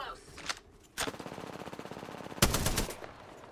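Rapid automatic gunfire in the battle royale game Apex Legends, several close, sharp volleys in quick succession with a voice briefly heard.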